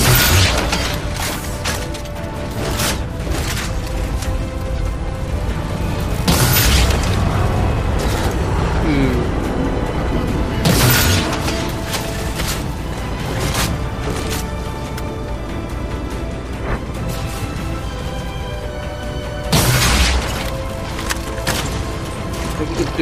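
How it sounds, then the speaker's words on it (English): Rocket launcher blasts and heavy explosions boom through a Halo 4 battle against the Covenant, several loud bursts spaced across a busy stretch of clattering gunfire and mechanical game noise. "Do I finally get the good sense to not try sniping with the rocket launcher?"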